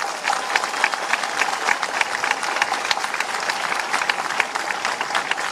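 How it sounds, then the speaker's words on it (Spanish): A large crowd at a political commemoration of the FMLN's 1989 offensive breaks into sustained, lively applause, with many hands clapping in a dense, even roar. "Un aplauso, por favor."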